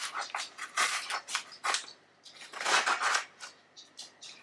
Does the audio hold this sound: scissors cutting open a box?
yes